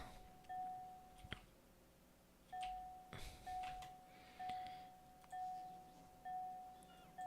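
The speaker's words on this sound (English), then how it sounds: "the bell continues unabating because the ag science is ready to go" The alert bell in Factorio rings as a repeated chime, sounding about every one and a half seconds at an even volume over quiet game background.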